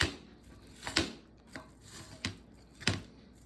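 A knife cuts through a toasted oatmeal omelette topped with cottage cheese and guacamole, making four distinct crunchy chops spaced about a second apart, fairly close and clear with no talking.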